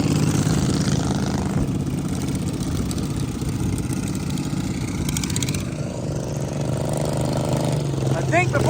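The engine of a riding lawn mower runs at a backyard mower race, a steady mid-pitched idle with slight revving. It sits loud and fairly near while people talk over it.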